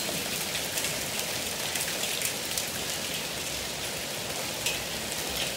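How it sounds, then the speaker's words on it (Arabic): Hail falls during a storm in Egypt, a dense, continuous patter of pellets striking surfaces, steady and moderately loud with scattered sharper hits and no voices. "نورت قوي تاني لما البرد نزل. ده مش تلج، ده برد"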